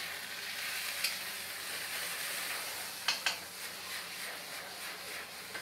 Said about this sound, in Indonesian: Kita masukin ayam sama baksonya.